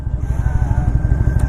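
A 2001 Harley Davidson Ultra Classic motorcycle with 102,000 miles and a rebuilt engine runs during a test drive, giving a loud, steady, close-up low engine rumble with a regular pulsing beat.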